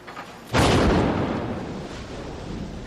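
A bomb blast in a military test erupts as one sudden loud boom, then rolls on as a long, slowly fading rumble.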